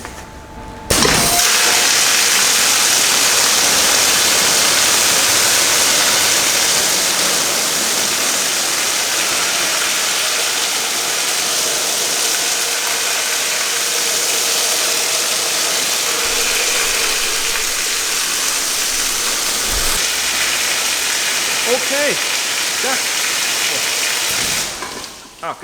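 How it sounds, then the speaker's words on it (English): A big hose blasts water inside an IPX6 waterproof tester onto a Scanstrut Rokk Charger Pro USB charger, producing a loud, steady rushing spray that starts abruptly and runs without a break for about 24 seconds before cutting off. "Okay, we are at the IPX6 tester. 3 minutes from a big hose."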